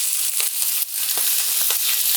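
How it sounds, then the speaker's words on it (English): Chicken sizzles on a hot grill pan with olive oil, a steady loud hiss with small crackles and pops running throughout, no voices. "now I'm just going to take my chicken and put it right on my pan. So you want to make sure that it sizzles"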